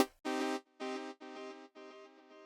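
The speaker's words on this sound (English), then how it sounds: "So currently the Helm synthesizer sounds like this right now." Helm synthesizer pad played through a stereo ping pong delay: a loud note followed by four evenly spaced echoes, each repeat slightly quieter, bouncing in a steady rhythm with brief silences between.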